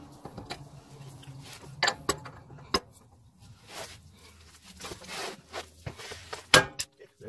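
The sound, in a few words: breaker bar and socket loosening Toyota lower ball joint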